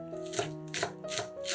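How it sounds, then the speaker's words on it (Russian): A knife chops green onions on a cutting board in a few quick, close, crisp strokes, with soft background music underneath. "Нарезаем зеленый лук."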